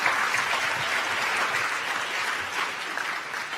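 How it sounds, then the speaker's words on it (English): A steady, even round of applause from a conference audience at the UN Youth Climate Summit greets a presenter. The dense clapping lasts the whole few seconds without rising or fading. "An applause for Monica."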